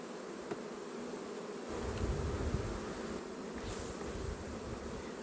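Honey bees buzz around a nucleus hive, a continuous faint drone that swells a little partway through and holds steady, with no talking.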